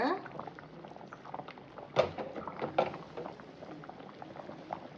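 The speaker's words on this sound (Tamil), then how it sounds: "பாருங்க நல்லா கொதி வந்துருச்சா?" Sardine fish curry bubbles in a pot at full heat, a close, soft, busy burbling with a few louder pops, and nothing else over it.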